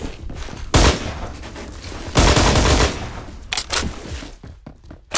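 Rapid automatic gunfire in the shooter game Phantom Forces, two loud sustained bursts separated by a brief lull, followed by a few scattered shots, close and punchy.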